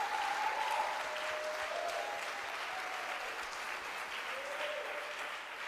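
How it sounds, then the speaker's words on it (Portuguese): A church congregation applauds, a dense, continuous wash of many hands clapping in a large room, steady in level with faint sung or sustained voice tones drifting underneath. "Aplauda o nome do Senhor."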